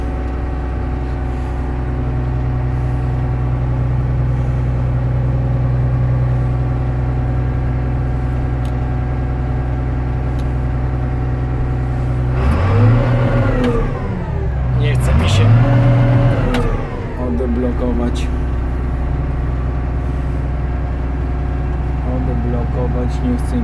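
A 1996 John Deere 2066 tractor runs with a steady low diesel drone, rising and falling in pitch as it revs midway before settling back to an even idle-like hum, close and continuous.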